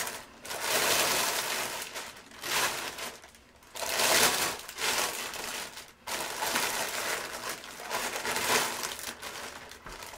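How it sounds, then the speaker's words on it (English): Plastic sheet being put over plant pots of tomato seedlings, crinkling and rustling in several close bursts separated by brief pauses. "And then I'm just going to put the plastic over."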